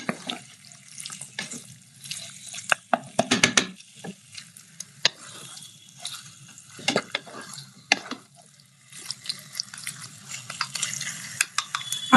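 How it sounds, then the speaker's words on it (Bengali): Chicken makhmali spice paste being stirred and mixed in a bowl, with repeated scraping clatters and bursts of wet, running-water-like noise that come and go, close and fairly clear, no talking. "এবার মশলাটাকে ভালো করে মিক্স করতে হবে"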